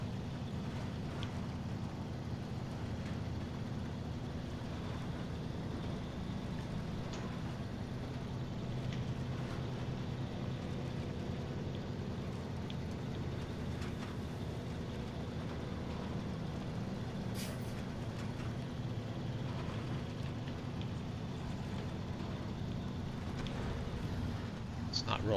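A truck engine rumbles steadily throughout, with a heavy low drone and road noise continuing at even loudness and no clear pauses.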